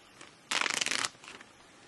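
A plastic Ziploc bag is handled outdoors while camping. A sharp crinkling rustle lasts about half a second, followed by a fainter crackle, and the sound is close with no talk over it.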